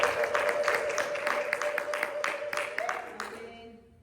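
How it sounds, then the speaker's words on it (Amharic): Applause and ululation rise from a church congregation during an Amharic Sunday morning sermon, with steady clapping and high trilling voices running together, fading out near the end. "እልልታ ጭብጨባ ለእሱ ይምጣ።"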